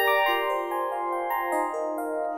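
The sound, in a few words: FM synthesizer electric piano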